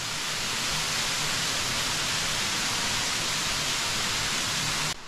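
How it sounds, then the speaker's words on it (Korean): Yongju Falls, one upper tier of a twin waterfall on a low-flow mountain stream, pours in a steady, dense broadband rush that holds constant and close throughout, with no talking. "예, 용주 폭포입니다."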